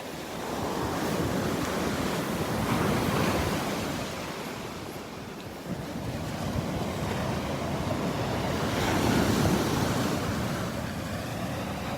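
Ocean waves break and wash steadily onto Vanderbilt Beach, a loud, continuous surf roar with swells rising and falling, mixed with wind noise on the microphone.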